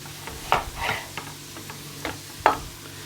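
Ground meat sizzles softly in a pan with intermittent scraping and stirring clicks, fairly close, no voices.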